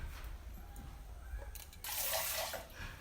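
Water pours near a sieve of blended vebeli lota and manimuni greens, a faint trickle at first that becomes a louder, splashy pour in the second half, with no one talking.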